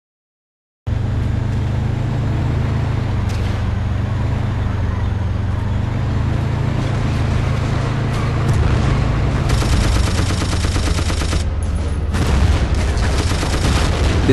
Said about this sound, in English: That guy fires an RPG at me, as you'll see in a minute